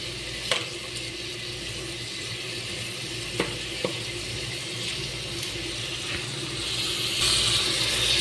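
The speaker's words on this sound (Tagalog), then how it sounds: "hinalo ko na yung chicken wings" Chicken wings fry and sizzle steadily in a pan while being stirred, with a few sharp scrapes of a utensil against the pan, as bihon pansit is cooked.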